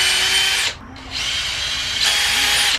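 A power drill bores into a wood shelf in two loud, close bursts of high whining, separated by a brief pause, with no talk over it.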